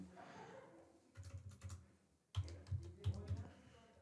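A name is typed on a computer keyboard while filling in an online meeting booking form: quick, close, crisp key clicks in two short bursts, with a brief pause between them and no voices.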